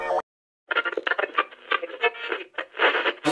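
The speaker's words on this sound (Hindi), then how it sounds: "आज बारिश हुई अचानक से।" A sudden rain shower patters in quick, uneven taps after a brief silence, fairly close and fairly loud, with no voices.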